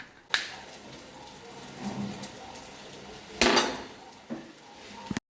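Garlic is crushed with a mortar and pestle in a village home kitchen while brinjal bharit is being made, heard as a few sharp, close pounding knocks spaced apart with quiet between them.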